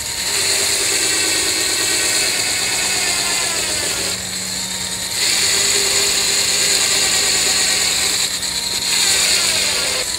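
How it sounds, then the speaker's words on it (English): A solar-panel-powered sander works a piece of wood, running as a steady, loud mechanical whir with a couple of short dips where it eases off before resuming. "So we're sanding a piece of wood."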